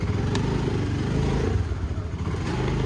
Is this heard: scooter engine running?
yes